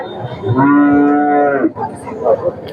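A cow moos once in a long, loud, drawn-out low call, with faint cattle market bustle before and after.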